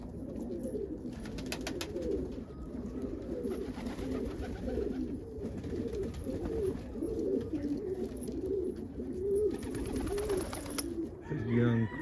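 Fantail pigeons coo steadily in a loft in snowy weather, a soft continuous chorus of overlapping low coos that lasts throughout at moderate distance.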